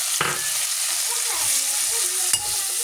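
Green chillies and garlic stir-fried with dried Bombay duck (loitta shutki) in a pan: a steady close sizzle with a couple of sharp spatula scrapes near the start and end, and no voices.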